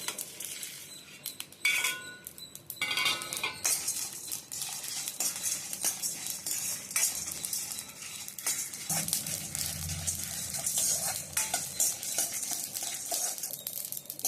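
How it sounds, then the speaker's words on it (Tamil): Whole spices (fennel, pepper, cumin, coriander, four dried chillies, cinnamon, cloves and cardamom) dry roasting in a pan, with faint rattling, scraping stirs and light clinks at close range, a brief low thump partway through, no talk. "சோம்பு, மிளகு, சீரகம், கொஞ்சோண்டு மல்லி, ஒரு 4 காஞ்ச மிளகாய், பட்டை, லவங்கம், ஏலக்காய் எல்லாத்தையும் போட்டு நல்லா வறுத்துக்கங்க."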